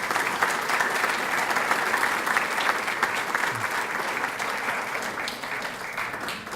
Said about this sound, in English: would members of the Board of Architectural Review please stand up and receive applause for what you've done